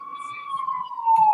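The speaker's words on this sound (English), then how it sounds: "The cop cars pulled up into the parking lot with their sirens blaring." A police car siren gives one steady, loud, slowly falling wail, with faint background noise underneath.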